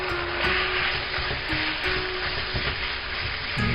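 Chicken browning in a hot pan for Benihana-style fried rice sizzles steadily and close, with a few sharp ticks and scrapes of stirring scattered through; no talking.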